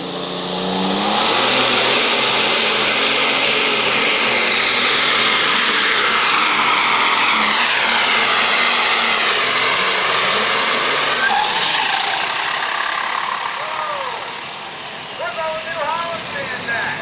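Competition pulling tractor at a truck and tractor pull, engine roaring loud and sustained with rising and falling pitch for most of the run, then easing off near the end while an announcer talks.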